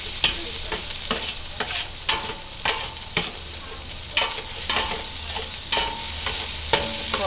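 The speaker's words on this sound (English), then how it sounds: "fry up an onion in the juice" An onion frying in roast juices in a pan, stirred with a spoon: a steady close sizzle broken by repeated scraping stirs at irregular intervals, with no talking.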